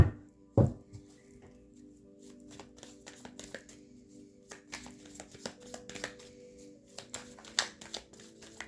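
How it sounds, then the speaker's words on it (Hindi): A tarot card deck being handled and a card drawn at a reading table, heard as soft papery riffles, taps and small knocks scattered through the stretch, quiet and close, without speech. "एक और कार्ड निकाल लेंगे इस डिफरेंट डेक से।"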